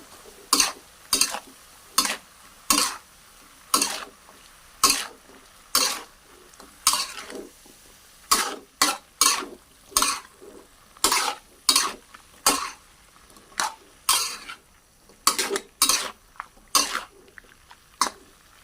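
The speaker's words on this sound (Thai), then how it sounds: "ผัดให้เข้ากันเลยจ้า" Mixed vegetables and marinated pork are stir-fried in a pan, a rhythmic series of roughly two dozen scraping spatula strokes over a faint sizzle, each stroke sharp and close, with short pauses between runs of strokes.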